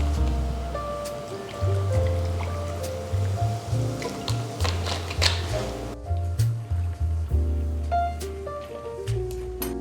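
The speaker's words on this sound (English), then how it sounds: "and then pour in the soda water" Soda water is poured over ice in a glass for a peach bubble tea soda, with fizzy crackling and soft splashes and clinks over background music.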